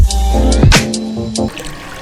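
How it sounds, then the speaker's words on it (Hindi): Water is poured into a clay pot (matka), a short close splashing fill with a few bright drips that fades into a low trickle within two seconds. "डेली सुबह उठ के इस मटके में पानी भरता हूँ"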